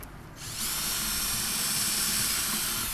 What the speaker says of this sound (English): what I basically do is I pre-drill the hole first.